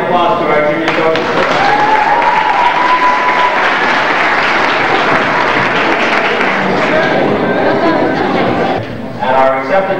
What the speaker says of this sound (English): Let's give a good hand of applause to our junior soldiers.